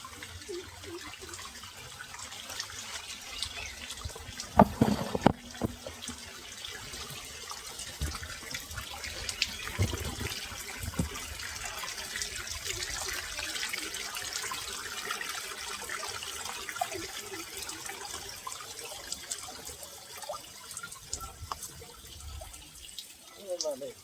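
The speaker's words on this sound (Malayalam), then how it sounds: "ഇവിടെ ചെറിയ അരുവിയൊക്കെ ഉണ്ട്" A small forest stream, swollen with rainwater at a spot once used for washing clothes, flows with a soft, continuous trickle and gurgle, faint and steady throughout, with occasional slightly louder splashes.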